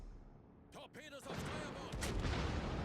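Warship secondary guns firing in the video game World of Warships, a few booming shots followed by rolling rumble and battle noise that builds, with a voice talking briefly over the start.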